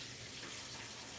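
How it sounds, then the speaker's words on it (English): Tap water runs steadily from a faucet as hands are washed, a soft continuous splashing hiss with no voices. "Now I'm going to wash my hands."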